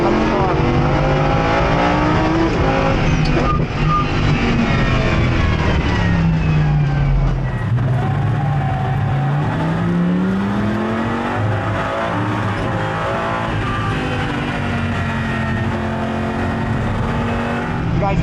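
A Lamborghini Supertrofeo race car drives hard on a racetrack, its loud engine rising and falling through gear changes and revs, with faint tire noise, steady and close throughout.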